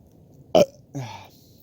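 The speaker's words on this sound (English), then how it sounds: "I think I've burped in every episode this semester so far" A person burps once, short and close, followed by a brief vocal sound, with near silence around them.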